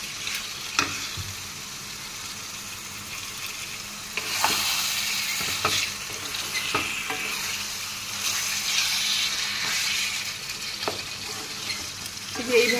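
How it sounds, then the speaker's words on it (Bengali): Chickpea dal is sautéed in a pan with a continuous soft sizzle, broken by repeated scraping strokes of a spoon stirring it close by. "এইভাবে এটা কষিয়ে নিতে হবে ভালো ভালো করে।"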